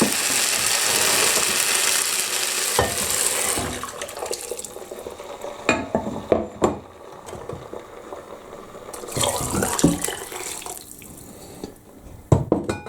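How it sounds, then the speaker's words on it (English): Stock is poured into a pan of browned onions for onion soup, a rushing splash at the start, then intermittent clanks and clatter from the pan and utensils. "Once the onions have browned, you need to add the stock."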